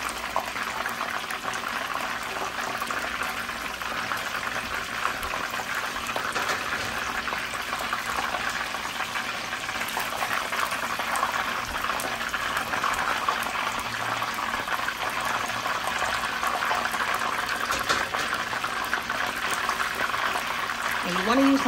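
Chicken wings for mustard fried chicken fry in hot oil, making a dense, continuous bubbling sizzle that holds steady throughout, with kitchen noise in the background.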